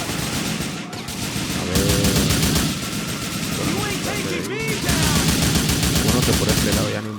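Heavy gunfire rages through a shootout in GTA 4, rapid bursts and volleys stacking loudly and continuously, with a short spoken interjection near the end.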